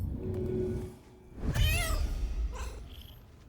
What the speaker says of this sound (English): Right, Gale's cat. Distract everybody.